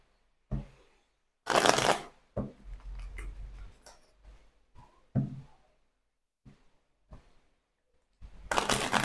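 Belline oracle cards are shuffled by hand in several bursts, crisp riffling rustles separated by quieter taps and pauses, with no talking.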